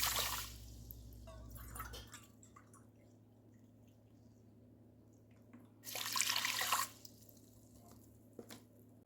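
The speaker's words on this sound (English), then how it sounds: "Add 2 cups of water." Water pouring for cooking quinoa, a faint splashing stream at the start and a louder rush of pouring midway, with quiet drips and clinks between.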